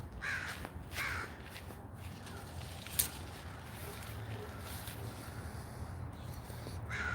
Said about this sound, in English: You just get thousands of crows here.